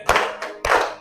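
Audience at a Bogor regency school counselling facilitator session claps hands in two loud, close bursts of rapid claps, separated by a short pause.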